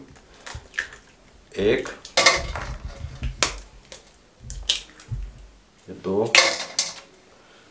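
Three eggs cracked and dropped into a cauliflower kebab mixture in a home kitchen, giving a few sharp clinks, taps and wet plops against the bowl, spaced out with brief pauses while a person speaks nearby.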